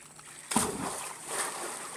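A loud cannonball jump smacks into a swimming pool, one sharp splash followed by sloshing, churning water that keeps rolling for over a second, with no talking.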